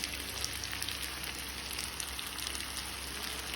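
Tomatoes hit hot oil in a pan of frying pork curry, giving a soft, steady sizzle and crackle that stays faint and even throughout, with no talk.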